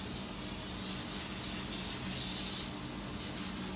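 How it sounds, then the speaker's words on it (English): Adhesive spray hisses from an aerosol can onto wooden letters, a continuous close airy hiss with slight surges in intensity, heard alone without talk. "the first thing we're going to need is adhesive spray"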